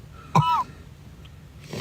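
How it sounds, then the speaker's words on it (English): A pet cat coughs once, a short raspy hack with a squeaky wheeze, followed by quiet and a faint rustle, close and fairly loud. "When it's cold, she coughs."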